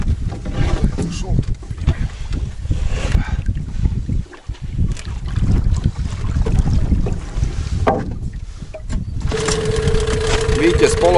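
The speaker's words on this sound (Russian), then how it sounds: "Видите, с полоборота берем на горячий двигатель" A Mikatsu 9.8 outboard boat motor, already warm, starts up on water, with a steady running drone and a fresh engine burst near the end, under people talking.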